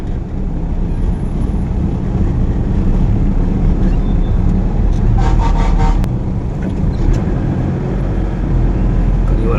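Heavy road traffic in Tondo, Manila, a dense, loud and steady roar of engines with a cluster of short horn toots partway through.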